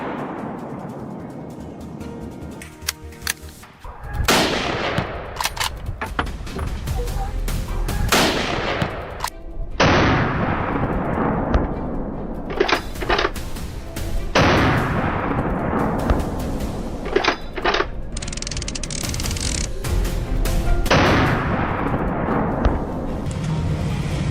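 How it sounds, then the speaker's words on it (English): Loud, sharp gunshots fired during a wild boar hunt, several separate blasts spaced a few seconds apart, each with a long echoing decay. "The pistol was fired decisively."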